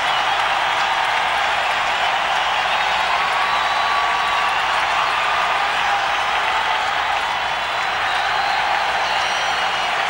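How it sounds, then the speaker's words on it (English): A large hockey arena crowd at the Calder Cup applauding and cheering without a break, a dense, loud roar of clapping and voices that fills the whole stretch with no letup. "Listen to this crowd. It's wonderful."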